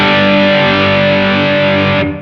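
An electric guitar driven through a JHS Hard Drive gain pedal rings out as one thick, saturated chord, loud and close, sustaining for about two seconds before its top end cuts away.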